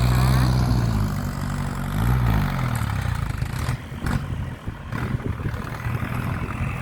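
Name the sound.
tractor engine running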